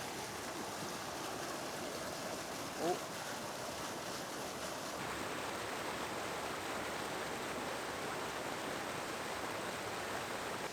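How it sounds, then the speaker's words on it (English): Water rushes over a weir in the UK in a continuous, broad roar, with a brief voice exclaiming partway through. "the water that's rushing down over the weir"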